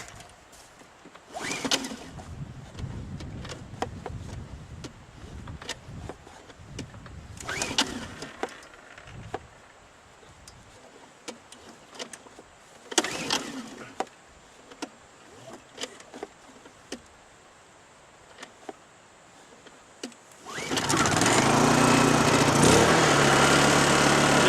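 A small portable generator fails to catch on several pull-start attempts, each a brief burst of rattling engine noise, then fires up and settles into a loud, steady running drone for the final few seconds.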